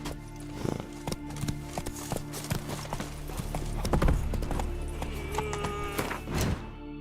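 Roach, a horse in The Witcher 3: Wild Hunt, trotting at an even pace with clear, steady hoof clops close by and a faint ambient hum underneath, ending in a sudden cut.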